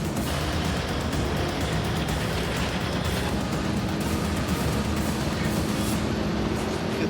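A heavy road-train truck engine labouring steadily as it climbs a slippery outback jump-up, a dense continuous low rumble and drone holding constant throughout with no talk.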